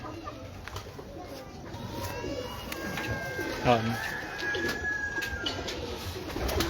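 Rooftop breeder pigeons in Lahore coo softly amid ambient noise, while someone talks nearby.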